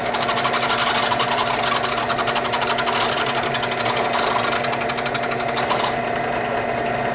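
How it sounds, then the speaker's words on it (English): A power drill whirs continuously at high speed drilling belt loop holes through Kydex plastic, a steady grinding buzz, easing off slightly near the end. "let the drill bit dig in a little bit longer"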